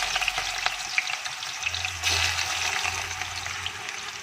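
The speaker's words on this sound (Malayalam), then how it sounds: "നമുക്ക് ചിക്കൻ അങ്ങോട്ട് ഇടാം" Chicken sizzles and crackles in hot coconut oil, a steady frying hiss with occasional pops and a low hum underneath.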